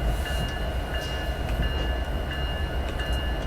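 Norfolk Southern SD60E locomotive hauling ballast on Horseshoe Curve in Train Simulator 2019: a continuous heavy diesel rumble with steady rolling rail noise and faint periodic clicks, no talk.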